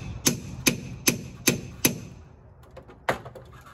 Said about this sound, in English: I'm gonna give it a little tap